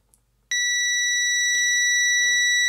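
A multimeter in continuity mode gives a steady, loud, high-pitched electronic beep that starts abruptly when its test leads touch across a dead short and holds unbroken to the end, with faint handling noise underneath.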